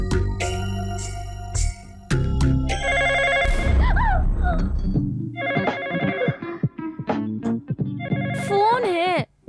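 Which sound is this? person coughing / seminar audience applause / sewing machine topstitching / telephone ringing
telephone ringing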